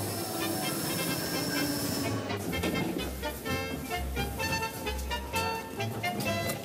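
Rigi mountain rack railway train arriving at Rigi Kulm summit station in the Swiss Alps, with a steady rumbling run, hissing, and rhythmic low clunks from the rack drive close by.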